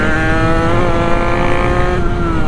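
A Sherco big bore motorcycle on a street ride, its engine droning loud and close with a steady high-pitched tone that climbs slightly, then dips near the end.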